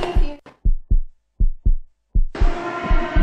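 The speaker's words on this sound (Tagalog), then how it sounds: "Bakit ang bilis ng tibok ng puso ko?" A heartbeat sound effect thumps in quick paired beats, loud and close, with short gaps between them, and then a busy music bed comes in under the continuing beats.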